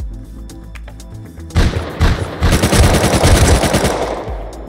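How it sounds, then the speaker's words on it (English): Rapid bursts of gunfire in the video game Rust Console Edition, loud and close, starting after a quieter first second and continuing as dense overlapping shots to the end. "I missed both shots on him."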